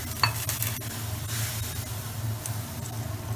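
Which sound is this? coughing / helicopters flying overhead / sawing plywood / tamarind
tamarind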